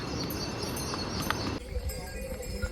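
Hooves of hired horses clip-clopping along the mountain trek trail from Gobind Ghat to Ghangaria, under steady outdoor noise, with a shift in background partway through.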